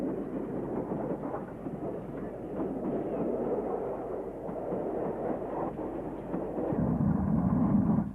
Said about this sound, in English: one of the majestic King-class locomotives, built by Collet in